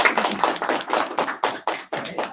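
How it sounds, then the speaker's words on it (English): Audience applause for a language research team at the close of an academic project presentation, a dense burst of many hands clapping at close range that swells and dips across the short stretch. "So let's give everyone on the team a round of applause."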